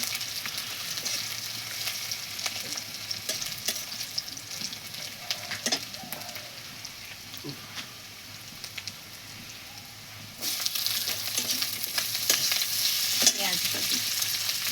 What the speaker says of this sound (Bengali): চিনিটা লাল হয়ে যাওয়ার পর তেজপাতা, তারপর রসুন বাটা ভেজে নেওয়া হচ্ছে